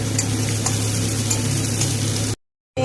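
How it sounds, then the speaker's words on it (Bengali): Chopped onions frying in oil with a generous amount of cumin seeds, a steady close sizzle and crackle with faint stirring, cutting off abruptly to silence near the end. "পেঁয়াজটাকে লাল লাল করে ভেজে নেব।"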